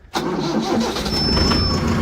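A Mahindra 755 tractor engine cranks and fires, then settles into a steady, loud mid-pitched running rumble close by, with no talk over it.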